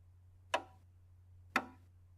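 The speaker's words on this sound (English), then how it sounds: "The beat of a piece of music is, by itself, kind of boring." Two crisp clicks about a second apart mark a steady, slow musical beat, close but quiet over a low constant hum.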